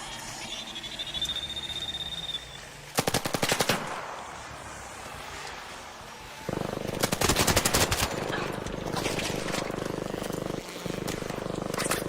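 Gunfire rattles in the ARC Raiders video game: two loud bursts of rapid automatic shots, a short one early and a longer volley later, set against a quieter background of ambient game sound.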